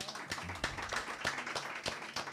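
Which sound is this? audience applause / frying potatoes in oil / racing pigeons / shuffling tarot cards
audience applause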